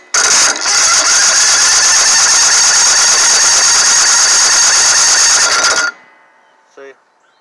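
A faulty starter motor with missing teeth, sparking and failing to disengage, gives a loud, harsh whirring grind that runs steadily for about six seconds, then cuts off abruptly, followed by a brief faint knock.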